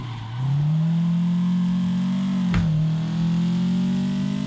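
A Nissan Silvia S13 or Toyota AE86 in a PC racing game mod launches as the clutch is released. The engine drops, then climbs into a loud, steady rising drone, with a short sharp burst partway through and no talking.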